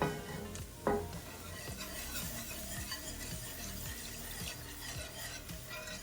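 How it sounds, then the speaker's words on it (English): A whisk works milk into a sauce in a pan. Quick rhythmic scraping and light clinking repeat steadily at close range over a faint sizzle, with one sharper knock near the start. "we are going to slowly add milk. Okay. And I am going to whisk this in."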